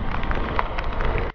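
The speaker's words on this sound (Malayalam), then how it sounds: "നല്ല കിടിലൻ മഴയാണ്" Heavy rain pours steadily in a forest near Vattavada, Kerala, a dense, loud hiss with scattered drop impacts throughout before cutting off abruptly at the end.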